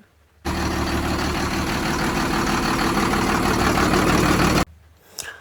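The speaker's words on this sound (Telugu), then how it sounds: "ఇంజన్ పని అయిపోయింది ఇంజన్ ఒకసారి స్టార్ట్ చేసిండ్రు" A truck diesel engine, just overhauled in Vijayawada, idles loudly and steadily for about four seconds, a dense low rumble, then cuts off abruptly leaving faint background noise.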